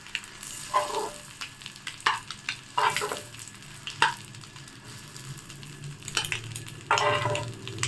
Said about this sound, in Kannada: ಎಗ್ಗಳನ್ನು ಚೆನ್ನಾಗಿ ಫ್ರೈ ಮಾಡ್ಕೊಂಡಿದ್ದೀನಿ ತವಾದಲ್ಲಿ